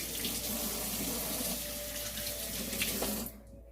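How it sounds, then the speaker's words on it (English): Hands rinsed under a running kitchen tap while cooking stuffed potatoes, a steady close splashing stream of water that cuts off abruptly near the end. "Let me wash my hands just for a second. Rinse them off, I should say."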